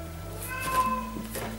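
A cat meows once in a drawn-out, moderately loud call from somewhere behind, over a faint steady hum.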